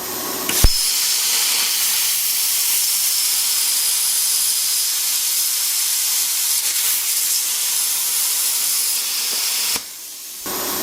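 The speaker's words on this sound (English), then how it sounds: "That was 1/4 inch mild steel." A plasma cutter slicing through 1/4 inch mild steel, an ArcCaptain Cut50, gives a loud, steady broadband hiss that runs nearly unbroken for about nine seconds after a sharp start, then cuts off abruptly near the end.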